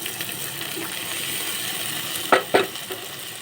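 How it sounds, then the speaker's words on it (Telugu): Boiled green bean pieces tossed into hot Telugu-style tempering give a steady frying sizzle, with two sharp clattering bursts of stirring near the end; close and moderately loud, no talk. "అలా వేసుకొని ఆ ముక్కల్ని శుభ్రంగా తాలింపులో వేసుకొని కలుపుకోవాలి"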